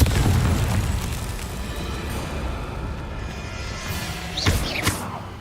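Confringo blasting spell in the Hogwarts Legacy video game going off during a Merlin trial: sustained rumbling blast noise followed by two sharp bursts near the end, loud and close.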